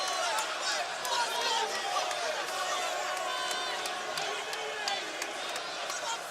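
A packed MMA arena crowd roars and cheers steadily for heavyweight Eric "Butterbean" Esch in his bout with Rob Broughton, a dense, continuous wash of voices with a commentator talking over it.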